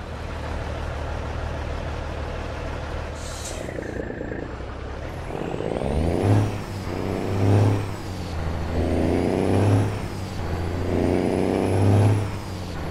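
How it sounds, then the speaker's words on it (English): Truck engine in American Truck Simulator: a low steady idle is joined by a hiss of air, then the diesel revs in repeated swells every couple of seconds, loud and close. "that engine sound"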